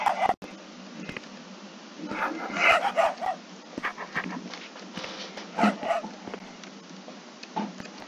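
Dogs barking and panting at night, a run of short yelps and barks bunched around the middle and near the end, moderately close over a steady background hiss.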